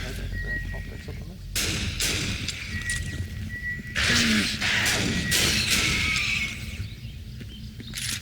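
Sniper rifle fire in the video game Aliens vs. Predator, several loud sharp blasts spaced a few seconds apart with ringing tails, over low game ambience and bits of talk.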